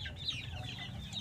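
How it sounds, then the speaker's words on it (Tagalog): Chickens and chicks on a Filipino backyard poultry setting, giving soft, faint clucks and peeps over a low ambient hum for a brief moment. "Tingnan nyo naman ang lalaki na ng mga sisiw na ito."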